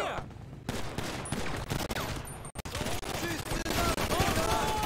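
Bursts of gunfire in GTA 5 Online, loud and close, with rapid shots clustered in volleys and brief pauses between them, filling the scene.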